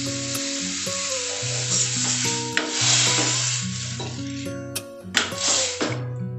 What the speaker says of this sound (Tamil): இது ஒரு 5 நிமிஷம் கொதிக்கட்டும்.